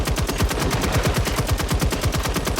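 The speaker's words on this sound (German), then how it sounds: "Ich liebe dieses Maschinengewehr." Machine gun firing in Generation Zero during a base defence: a rapid, evenly spaced stream of loud, close shots that keeps going without a break.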